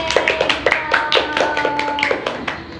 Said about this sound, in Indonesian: Berikan aplaus buat kelompok B